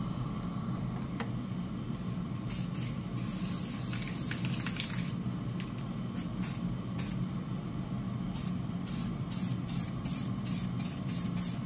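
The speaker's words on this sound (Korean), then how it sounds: "균일한 도색을 위해서 네 군데의 모서리를 먼저 칠해준 다음에 전체적으로 덮어주는 것이 좋습니다" Black lacquer is spray painted onto a canvas in repeated close, loud hissing bursts of varying length, with a constant low hum beneath and no talking.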